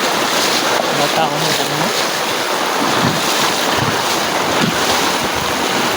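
Rushing floodwater pours through a village after three days of continuous heavy rain, a loud, constant roar with strong pressure, while someone speaks briefly over it.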